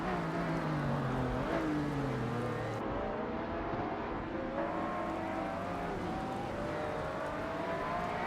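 Race cars in a racing simulator video game at Spa, engines droning and whining with rising and falling pitch as several cars rev and shift, a steady continuous roar with no talking.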